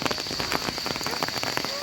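Steady rain patters on leaves and the ground in a forest during an evening walk, a dense close wash of drops that continues without a break.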